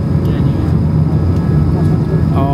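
A steady, loud jet airliner roar fills the cabin of a descending Emirates flight into Dubai, a constant low drone with occasional faint voices underneath.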